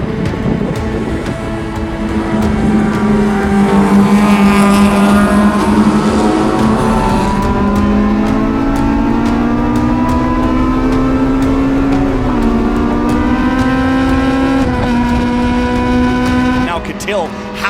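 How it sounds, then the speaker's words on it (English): Race cars on a circuit, including a number 3 Corvette, roar past with rising and falling engine pitch throughout, loud and close, with a commentator talking over the engines. "Hale hounding the 2021 season champion, ripping the long way around, trying to get past the number 3 Corvette, and he does."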